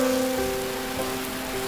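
Rain patters steadily on a surface, a soft continuous hiss with faint tonal hums running underneath.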